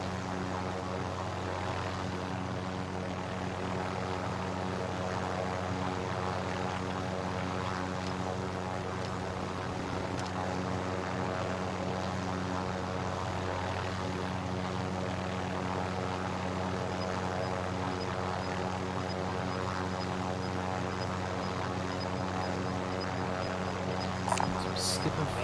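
A helicopter in the video game Warzone drones steadily with a low rotor hum and engine tone, continuous and moderately loud throughout, under faint game ambience.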